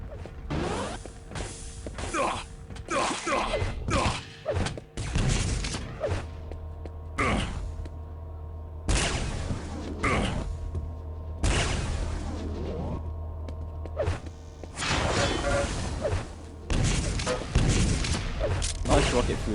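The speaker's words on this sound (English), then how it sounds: "Nice rocket through the holding pillars there. And the rail too." Rocket explosions and railgun shots ring out in a Quake Live 2016 Frag o Matic grand final match, sharp bursts and booms recurring throughout amid busy game noise, with a commentator's voice running over the action.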